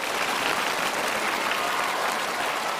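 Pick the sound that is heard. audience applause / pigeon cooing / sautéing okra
audience applause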